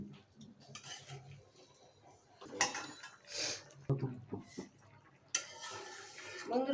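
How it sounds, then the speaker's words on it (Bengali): Fish and lentil dumplings going into a simmering taro-root curry with small catfish in a home kitchen: scattered spoon stirs, pot and utensil clinks and soft plops, fairly quiet, with no talk. "এখন আমি মাছ আর বড়িগুলো দিয়ে দেব।"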